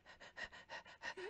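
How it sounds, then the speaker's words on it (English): Rhythmic, close heavy panting breaths in quick succession, each exhale a breathy rasp, heard alone with no talking. "who's breathing so hard that I can hear them?"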